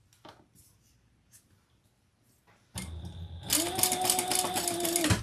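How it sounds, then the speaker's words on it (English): After a few soft clicks and handling knocks, a sewing machine starts up chain stitching, running loud and close in a steady whirr with a clear motor hum for about two seconds, no voices. "Let's do some chain stitching."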